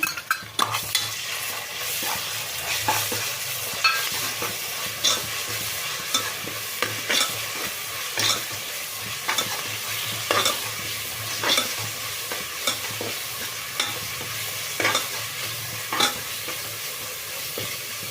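Ginger garlic paste fries in oil for a Kannada-style mutton pepper fry, a steady close sizzle broken by repeated scraping strokes of a spoon stirring it around the pan, with no one talking.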